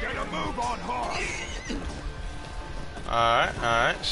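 Chivalry II game sound: people talk, and then a horse gives two short whinnies close by near the end.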